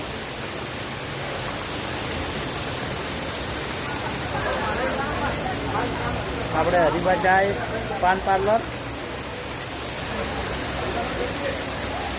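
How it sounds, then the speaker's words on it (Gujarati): Heavy monsoon rain pours steadily outside a roadside pan shop in Patan, Gujarat, a loud continuous hiss, while someone speaks over it in the middle. "આ બાજુ વરસાદ જોરદાર પડી રહ્યો"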